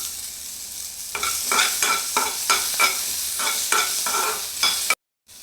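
Cinnamon pieces and cloves frying in a pan for a Kannada mushroom saaru, a constant sizzle broken by a regular series of scraping stirs, then cutting off abruptly near the end, with nobody speaking.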